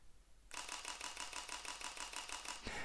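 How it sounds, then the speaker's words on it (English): A Leica SL3-S camera fires a rapid burst of sharp, snappy shutter clicks in an even rhythm for about two seconds. Each click is crisp and close, and the burst stops abruptly after a quiet start. "the shutter sound in general, when I was shooting in Switzerland, this camera sounds very nice. It's very snappy, very aggressive."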